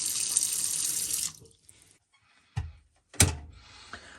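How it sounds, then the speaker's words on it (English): A kitchen tap runs loudly into a sink bowl for about a second, then shuts off, followed by a couple of sharp knocks and clatters and a brief trickle. "We'll fill the bowl up with some water."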